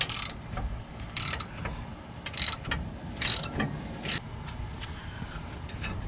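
A ratchet wrench tightens suspension bolts on a Toyota Tundra during a Roadmaster Active Suspension install, giving several short bursts of rapid clicking separated by pauses, close up over low background rumble.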